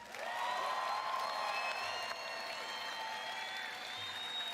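A large audience applauds during a live E3 gaming presentation, with steady dense clapping sustained throughout and faint whoops rising from the crowd.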